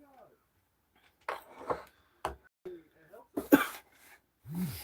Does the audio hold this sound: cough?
yes